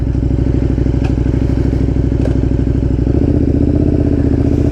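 A KTM 1290 Super Duke R with its exhaust baffles removed idles close and loud, a deep, lumpy twin-cylinder throb that briefly changes pitch partway through with a few clattering mechanical ticks.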